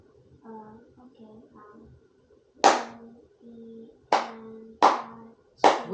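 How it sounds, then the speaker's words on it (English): Four sharp, loud hand claps tapping out a right-hand rhythm during a music lesson, following a sung or hummed pitched passage, each clap distinct and spaced unevenly. "clap the rhythm of the right hand"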